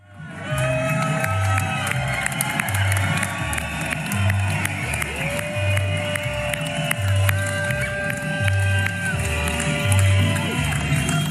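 Supporters cheer, shout and applaud newly elected deputy Léo Walter on election night in the Alpes de Haute Provence, a loud, unbroken crowd roar with whoops and a thumping rhythmic pulse running beneath it throughout.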